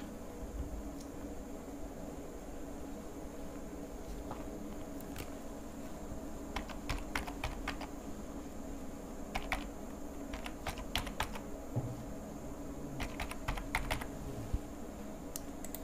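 A certificate number is typed on a computer keyboard during an online scholarship application, with quiet clusters of key clicks in irregular bursts and pauses over a low steady room hum.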